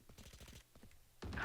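Rapid gunfire in the tactical shooter Valorant during a collegiate esports match, a fast burst of sharp shots followed by a few scattered reports and a louder final blast.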